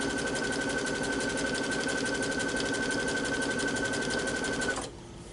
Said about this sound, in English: I'm going to stitch until the needle's on the right side of my fabric, and then I'm going to pivot and turn